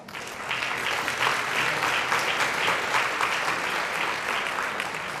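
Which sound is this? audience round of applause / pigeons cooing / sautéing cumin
audience round of applause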